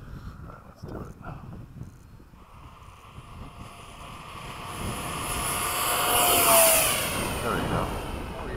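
An F-16 fighter jet taking off on afterburner after sunset, a distant roar that swells steadily into a loud, rushing blast with a sweeping tone, while people talk nearby at the start.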